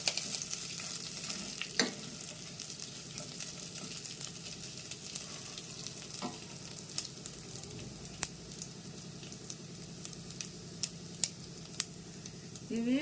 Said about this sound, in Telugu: ఇప్పుడు ఎండుమిరపకాయలు వేద్దాము, విత్తనాలు లేకుండా వేద్దాము. ఇవి కూడా 2 మినిట్స్ ఫ్రై అవనిద్దాం.